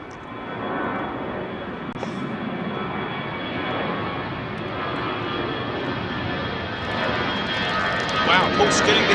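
An 11-year-old Emirates Airbus A380 jet at London Heathrow Airport: a loud, sustained engine roar that swells toward the end, with people talking over it.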